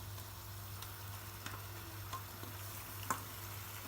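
Drained pasta is stirred into cream and butter boiling in a pan, making creamy black pepper pasta: a steady soft sizzle and bubbling with occasional faint stirring taps over a low hum, and no voices.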